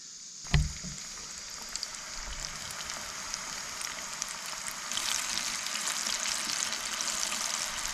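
Pieces of carp, called mud marlin, fry in hot oil with a steady close sizzle and crackle. A sharp knock comes near the start, and the frying grows brighter and denser in the second half.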